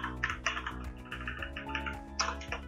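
Quiet, close computer keyboard typing as text is entered, a quick irregular run of light key clicks with no voices.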